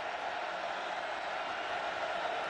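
A college football crowd at a 2010 Kansas Jayhawks home game against Georgia Tech roars steadily in support of the Kansas defense, a dense, sustained wash of voices with no break.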